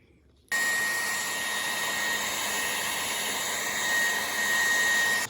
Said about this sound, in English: we hit the game controller with some cool air, and then we came back and hit it with some heat